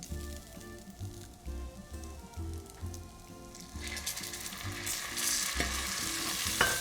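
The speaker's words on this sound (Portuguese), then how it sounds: "eu vou fazer o pingue frita, que é deglaçar o fundo da panela" A pan with browned beef and mushrooms is deglazed with drips of water, a quiet pulsing simmer giving way to a loud, bright, rising sizzle near the end as the water hits the hot bottom.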